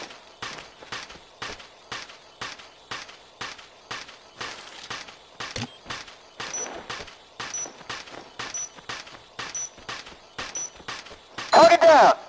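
Rapid bursts of rifle fire in the video game Ghost Recon Ghost Warrior, a steady rhythmic string of sharp shots repeating roughly every half second, fairly close, ending in a louder burst, with no voices.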